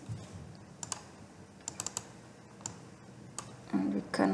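Several brief clicks of typing on a computer keyboard while entering data into an Excel spreadsheet, sparse and fairly quiet over a low background, with a busier burst of keystrokes near the end.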